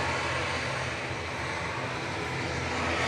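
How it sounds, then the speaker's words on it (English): An EasyJet airliner touching down at Manchester Airport, a loud, steady broadband jet engine roar filling the whole stretch without letup. "EasyJet's just touched down in the background"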